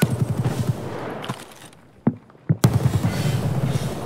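Gunfire in Escape from Tarkov: a loud burst of rapid shots at the start, a lull with a couple of sharp isolated cracks, then another close, dense volley of shots to the end.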